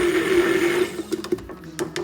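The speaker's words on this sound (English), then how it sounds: "with a hand blender we'll just blend that" A hand blender whirs through beetroot hummus with a steady motor drone, then breaks into short, uneven bursts as the blending stops and starts near the end.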